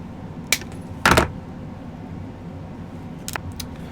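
Silver wire for a filigree pendant is snipped with cutters: a few sharp, close metallic clicks, one louder snap near the middle and two quicker ticks toward the end, over quiet room tone.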